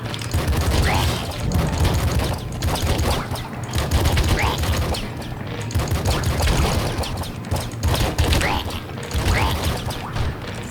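Submachine gun fire from the video game Nuclear Throne, rapid repeated bursts of sharp shots rattling in quick volleys with short gaps, loud and close.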